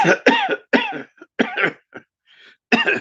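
A run of harsh, hacking coughs close up, coming in short bursts with brief pauses between them.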